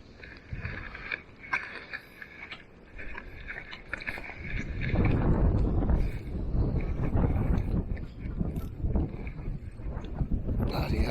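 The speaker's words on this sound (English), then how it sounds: "Bloody hell, this wind is bitter." Bitter wind blowing across an outdoor carp fishing lake buffets the microphone in a continuous rough rumble, swelling stronger toward the middle and staying gusty and close throughout, with no talking.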